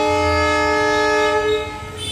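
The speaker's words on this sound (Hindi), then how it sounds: "पीछे से सुन रहे आप लोगों ने, वो है ट्रेन की आवाज़" A train passes behind a village house in Gorakhpur, its horn blaring loud and sustained with a rumbling rail undertone that fades slightly toward the end.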